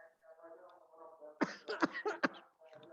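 Coughing bursts from a man during an oral exam, a handful of sharp, close coughs in quick succession sandwiched between stretches of quiet speech.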